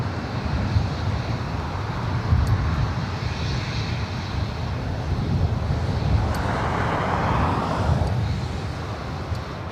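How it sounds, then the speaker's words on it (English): An old America West Airbus A319 at LAX delivers a loud, sustained jet roar with a rushing, windy texture, swelling slightly midway as it passes nearby, with no talk. "It's an old America West A319"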